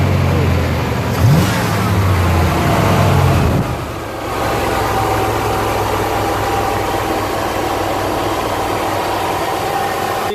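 Rebuilt engine of a 1977 Chevy Silverado K10 pickup, with fresh Amsoil and a new crankshaft and bearings, cranking, then revving up before settling into a loud, steady close idle with no talk.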